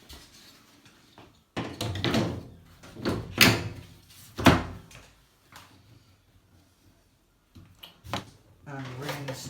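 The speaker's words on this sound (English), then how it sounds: "Now you can refit the lid." The lid of a Bush washing machine being refitted, with a series of close plastic knocks, clunks and sliding scrapes in uneven bursts separated by short pauses.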